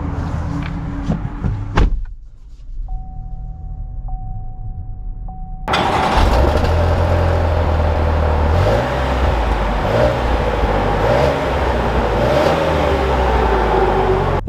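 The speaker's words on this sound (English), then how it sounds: "let's take this Acadia Denali out and see how she drives" A 2021 GMC Acadia Denali: a door thunks shut, a chime rings in the quiet cabin, then the engine starts and settles into a steady, loud drone as the SUV pulls away with road noise.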